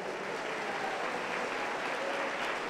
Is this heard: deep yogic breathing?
no